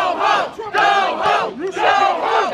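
An angry street crowd shouts a repeated chant at a man wearing an Israeli flag, the voices rising and falling in three loud rhythmic waves of massed yelling.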